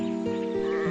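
Sheep bleating on a farm, a few drawn-out tonal bleats following one another close up and clear, with no talking.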